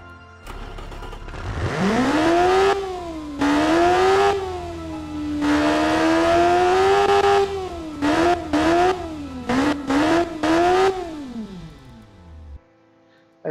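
A 600 cc naturally aspirated motorcycle engine revs hard, rising and holding a high whine, then blipped in a series of quick sharp throttle stabs before cutting off; loud and close with no talk.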